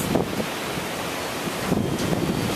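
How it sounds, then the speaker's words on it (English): Steady roaring wind through locust, cherry and tulip trees, with gusty rushing surges, a broad continuous whoosh that swells louder near the end; no voices. "It's really windy."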